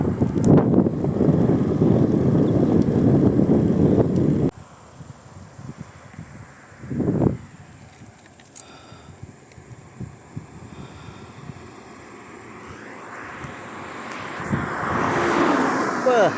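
Strong wind buffets the microphone on a long, flat, straight road in Johor, Malaysia, in a loud rumbling roar, drops off, gusts briefly again, then swells back up toward the end.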